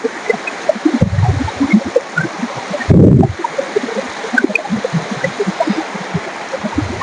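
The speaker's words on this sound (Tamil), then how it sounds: "தண்ணி ஓடும் அழகை பாருங்கள்" Water runs along a stream on a forest trail in the Kolli Hills, a steady close rushing wash with brief louder splashes.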